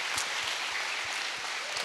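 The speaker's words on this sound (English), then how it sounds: "Let's give them a round of applause." An audience at a school vision night claps for the coaching staff, a steady wash of many hands at moderate distance with faint low thumps recurring beneath it, no voices on top.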